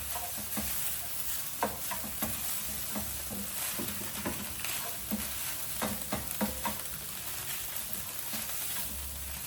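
Boiled sausages fry in a pan in a home kitchen in Kampala, giving a continuous close sizzle with scattered crackles and pops and occasional stirring scrapes, no talking.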